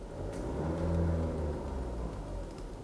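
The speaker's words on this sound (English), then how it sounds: "Let me also rev the engine." A Tata SUV engine rumbles and revs up, swelling in a low droning roar before easing back, loud and close.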